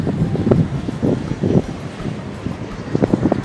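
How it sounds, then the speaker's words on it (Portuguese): Wind blowing at a wind farm beside a highway, heard as loud buffeting gusts rumbling against the microphone in uneven surges. "O barulho do vento."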